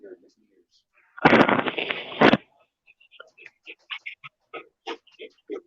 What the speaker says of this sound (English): Oh, I heard that firework.